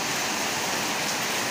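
Heavy rain pours steadily in Bang Pu, Samut Prakan, a dense close hiss of water with no break and no voices.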